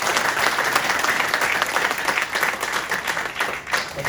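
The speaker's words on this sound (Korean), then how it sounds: "박수 한번 크게 한번 주시면 고맙습니다" An audience of small business owners at a legislative forum on protecting local markets gives sustained, dense applause from many hands at a steady level throughout.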